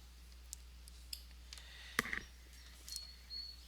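Computer mouse clicking at a desk during software use, a few sharp separate clicks, one clearly louder near the middle, against a quiet room with low hum.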